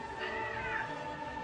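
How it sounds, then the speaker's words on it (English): A cat meows in one drawn-out, wavering call, close and fairly loud over a steady background hum, heard alone without voices. "that's my old grumpy cat Onyx"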